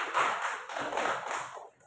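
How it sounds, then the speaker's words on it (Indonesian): A classroom of pupils claps together in a brief, loud burst of applause, a dense patter of many hands with a few pulsing surges, then it cuts off sharply at the end. "tepuk tangan untuk kita semua"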